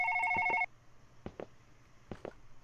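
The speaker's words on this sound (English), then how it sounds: "Now, whose phone is that? Is that my phone or Robert's phone?" A phone rings indoors with two bright electronic ringtone bursts, followed by several softer knocks and handling sounds in a quiet room.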